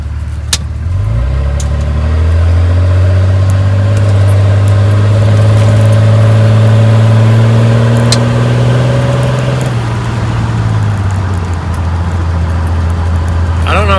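A third-generation Cummins diesel with its turbo silencer ring removed runs steadily from inside the cab, a loud low drone with a rising whine that builds for about nine seconds, then eases as the engine settles back.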